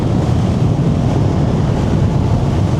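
Strong wind buffets the microphone outdoors, producing a loud, low, continuous rumble that stays dense and unbroken for a few seconds, with no voices.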